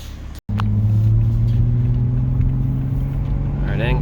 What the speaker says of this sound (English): So you can still hear the turbo.